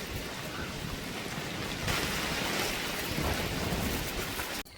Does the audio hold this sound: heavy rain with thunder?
yes